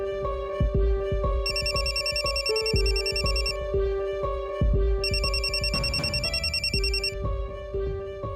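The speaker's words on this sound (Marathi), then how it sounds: "बघ तिचाच फोन असेल." Telephone bell ringing in a Marathi TV serial scene, two bursts of electronic ringing over continuous background music, with no speech.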